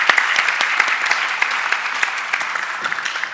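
An audience applauds steadily at a round-table discussion, a dense, close patter of many hands clapping throughout with no voices over it.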